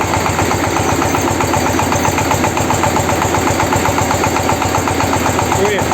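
A ZIL-130 truck engine idles steadily with a loud, even mechanical rumble and rapid regular pulsing, continuous throughout with no pauses.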